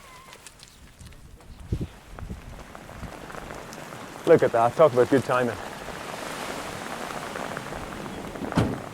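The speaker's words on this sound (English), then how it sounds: "The Hebridean rain again." Rain falls steadily on the Isle of Vatersay in the Hebrides as a soft, continuous patter, with a few louder thumps and splashes, while someone speaks over it.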